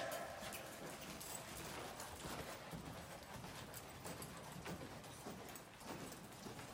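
Young two-year-old American Quarter Horse prospect loping in an arena on an early ride, its hoofbeats falling in a steady rolling rhythm, fairly close and continuous, with no talk over them.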